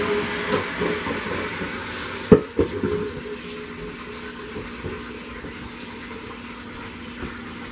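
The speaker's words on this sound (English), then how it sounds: "I like to use this for my stick blender." A stick blender's steady whirring motor drone runs throughout while mixing cold process soap, with a brief clatter of knocks partway through, close and fairly loud.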